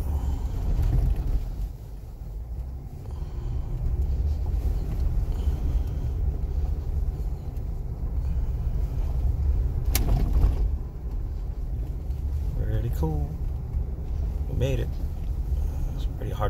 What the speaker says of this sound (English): I'm driving a 2015 Jeep Wrangler Unlimited.